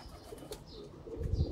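A Kamagar pigeon, a Sialkoti flying breed, gives low, soft coos up close, with faint rustling and a denser low murmur toward the end.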